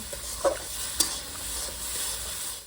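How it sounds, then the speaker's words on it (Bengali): Onion paste and sliced onion frying in a pan for fish curry, a steady close sizzle broken by two sharp stirring scrapes, with no talking. "পেঁয়াজও দিয়েছি আর বাটা পেঁয়াজও দিয়েছি ভালো করে কষে নেবো"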